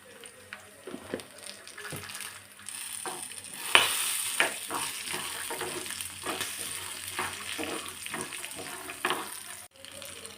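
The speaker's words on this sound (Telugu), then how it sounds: "చూడండి, మంచి కలర్లోకి వచ్చేదాకా వేయించుకోవాలి." Cumin and other ingredients fry in a pan on the stove, a steady sizzle broken by frequent scrapes and stirring clicks, close and fairly loud throughout, with no talking.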